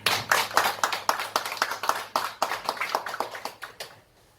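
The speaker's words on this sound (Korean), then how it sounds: "우리 주님께 영광의 박수 드리겠습니다." A church congregation claps in praise during a Korean worship service, a loud, rhythmic run of unison claps at a steady beat that stops abruptly at the end.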